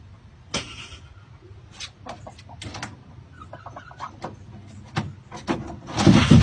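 A chicken clucks in a run of short, uneven bursts, fairly close and moderately loud, with a sharper flurry of calls building toward the end.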